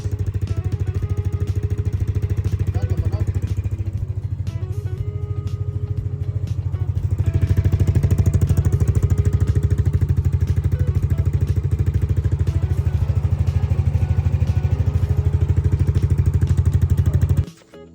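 Scooter engine idling after a Shell Advance oil change, a steady close-up putter with mechanical clatter that holds for most of the run, then cuts off abruptly at the end.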